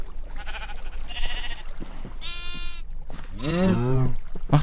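Sheep bleats from a Minecraft game, several bleats in a row, the last one loudest and nearest, with background sound running throughout.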